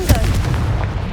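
Confringo blasting spell from Hogwarts Legacy going off as a loud, booming explosive burst, with a heavy low-end thump and continuing rumble throughout a short moment.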